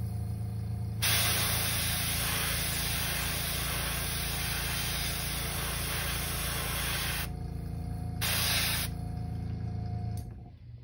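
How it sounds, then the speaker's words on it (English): Airbrush spraying paint onto a crankbait fishing lure, a steady loud hiss of air lasting several seconds, briefly pausing, then resuming in a short burst before cutting off, with a low motor hum underneath throughout. "Clean this out of my airbrush."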